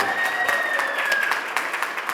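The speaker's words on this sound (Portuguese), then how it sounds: "eu quero que vocês recebam com uma grande salva de palmas" Audience applause at a motivational lecture welcoming the speaker, brisk overlapping claps with a few sharp individual hits, steady and moderately loud for its short duration, with a faint whistle-like tone running through it.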